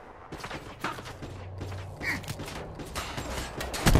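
Rapid gunfire bursts in a hardcore Search and Destroy match of a first-person shooter, with sharp cracks clustered over a low mechanical hum, moderately loud and close, no voices.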